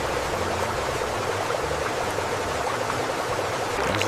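A mountain stream flows in a continuous, full rushing wash of water, close and fairly loud, steady from start to finish with no voices.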